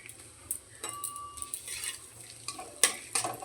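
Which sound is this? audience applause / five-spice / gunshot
five-spice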